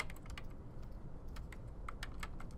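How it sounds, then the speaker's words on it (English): Computer keyboard keys pressed during animation software work, a quick run of crisp close clicks with no talk. "Hit F8 on the keyboard and then convert this"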